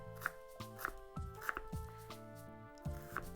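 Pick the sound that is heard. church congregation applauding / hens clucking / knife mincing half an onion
knife mincing half an onion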